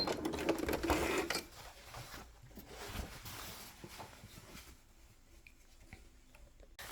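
A sewing machine runs steadily as it backstitches, whirring loud at first and then easing into a quieter, even stitching rhythm.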